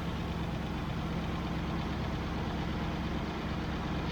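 A Triumph Stag engine with Stromberg CD175 carburettors idles fast, a dense, steady low rumble that holds at one level throughout with no speech.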